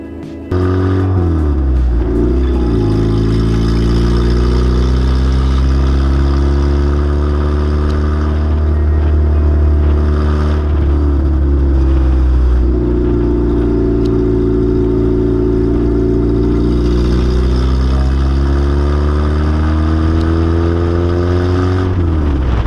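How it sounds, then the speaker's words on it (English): A lifted Honda Civic wagon with a new HRG lift backs out of a garage under its own power, its engine droning steadily and close with a few swells of revving throughout. "the wagon's backing itself out of the garage for the first time with a new revision."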